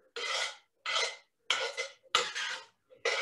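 Utensil scraping and scooping colcannon out of a hot, plugged-in electric skillet, five rough rasping strokes with short pauses between, close and fairly loud.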